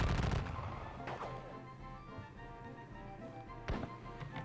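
Musket volleys from the Battle of Waterloo and Wavre wargame: a loud burst of gunfire at the start, another crack about a second later and a sharp volley near the end, over a steady low rumble with no voices.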